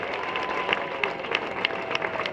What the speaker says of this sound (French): On applaudit pour lui s'il vous plaît.